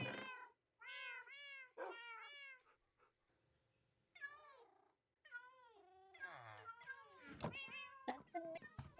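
A cat meows repeatedly in a series of drawn-out, wavering calls, some rising into longer yowls, with brief pauses between them and a thump near the end; the calls are clear and close, with no talk over them.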